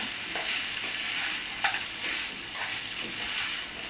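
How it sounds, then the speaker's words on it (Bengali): Koi fish being stirred into a fried spice masala in a pan, a soft continuous sizzle with light scraping and stirring strokes close by, quiet and without talk. "এখন আমি দিয়ে দিব মাছটা। মাছটা দিয়ে একটু নেড়ে নেব।"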